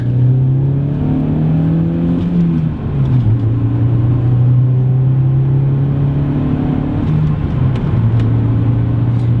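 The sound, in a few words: Volkswagen Golf manual car driving, engine running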